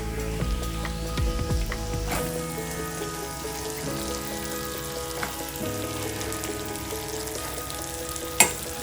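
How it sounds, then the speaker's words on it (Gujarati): Okra tossed into hot oil with turmeric and coriander-cumin powder, crackling and sizzling steadily in a pan with occasional spoon scrapes and a sharp clink near the end, no talking. "હવે ભીંડા નાખીશું."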